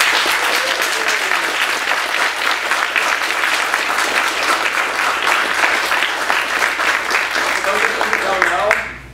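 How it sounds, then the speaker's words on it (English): Sustained audience applause for a panel at a science fiction society short fiction roundtable in Baltimore, a steady dense wash of many hands clapping at close range that tapers off at the end. "So let's give them another round of applause."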